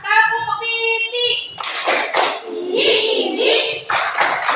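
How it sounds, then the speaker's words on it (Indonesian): Third-grade children patting their cheeks in a classroom game, with a short burst of singsong voices followed by several quick loud rounds of pats, close and lively, mixed with chatter. "1, 2, 3, tepuk pipi."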